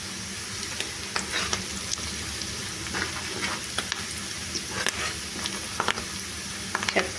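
Curry leaves and ginger garlic paste frying in oil for a korramenu fish curry, a steady close sizzle broken by sharp spitting pops and a few stirring scrapes, no voices.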